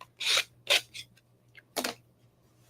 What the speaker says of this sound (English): I always like to take my sanding tool and just sand around the edges